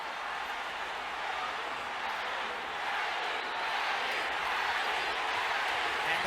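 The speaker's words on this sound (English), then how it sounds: "And the crowd picks up the chant" Boxing arena crowd during Pacquiao vs Margarito, a steady, dense roar of many voices chanting and cheering at a distance, sustained without a break under ringside commentary.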